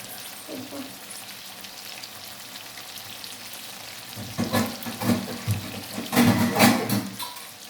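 Food cooks in a pan over a high flame, quiet at first, then rising into loud bursts of sizzling and bubbling in the second half, with a stir-like clatter.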